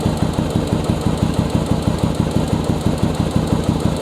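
A Yamaha Virago motorcycle engine idles loudly and close during air/fuel mixture adjustment, with a steady, even low pulsing throb.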